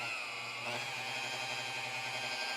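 A car polisher spins up with a very soft swirl-removing pad, a steady high motor whine with a low hum, close and continuous with no talking.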